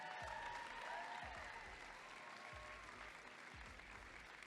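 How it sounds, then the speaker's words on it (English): An opening-ceremony audience at a district event applauds volunteers with sustained, dense clapping that fills the hall evenly from start to end, heard from a distance without voices over it. "How about a round of applause for those volunteers?"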